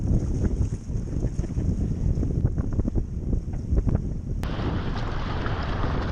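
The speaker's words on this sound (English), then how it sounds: "It's got a bit windier." Strong wind buffets the microphone at an open reservoir, a steady loud roar with gusting rumble throughout and no voices.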